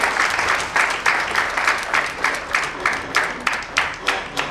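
Audience applauding loudly for Dhruvil Shah, a dense burst of clapping with rhythmic swells, close and continuous throughout, with no talk over it.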